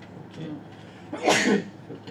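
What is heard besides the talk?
sneeze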